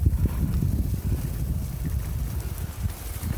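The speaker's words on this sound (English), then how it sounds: "the wind is coming across at the moment, coming across me" Wind blowing across a cyclist riding a railway-path section of National Cycle Route 7 north of Carlisle, a steady low rumbling buffet against the microphone that continues throughout with no speech.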